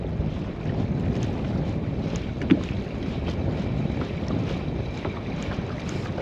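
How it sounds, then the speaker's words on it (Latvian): Boat coming in on Liepāja lake, heard as a continuous low rumble with wind noise and lapping water, steady throughout with one brief knock midway. "Vēl viena laiva atbrauc,"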